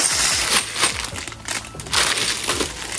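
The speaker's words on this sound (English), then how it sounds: "Oh, this must be the nuts and bolts for the operation." A bag of small metal nuts and bolts for a TV wall mount is shaken and handled close by, giving dense jingling, clinking rattles in several bursts across a few seconds.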